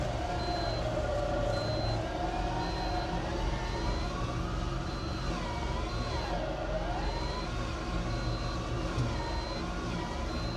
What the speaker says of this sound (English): You can hear the winch working.